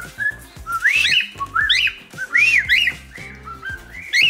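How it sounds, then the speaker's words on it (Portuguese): A pet parakeet whistles in a series of rising, looping chirpy phrases, close and fairly loud, repeating roughly every second with no talk over it. "Se esse periquito faz barulho aqui"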